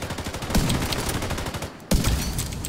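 Gunfire from an online multiplayer shooter game, a dense burst of rapid shots filling the first couple of seconds, a brief gap, then another loud volley.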